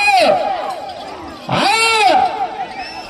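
Crowd at a bullock cart race in Anantapur district, Andhra Pradesh, letting out loud, sustained shouts and cheers in two big surges, voices rising and falling together over a close, noisy gathering.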